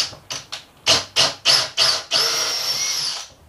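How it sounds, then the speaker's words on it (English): A power drill bores through white masonite in several short bursts, then one longer continuous run, loud and close with no talking. "drilling in masonite, white masonite, can cause trouble"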